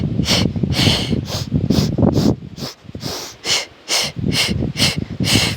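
Rhythmic, forceful breaths pushed out in quick pulses during a full-body workout exercise, a steady train of sharp, close exhalations with brief gaps partway through.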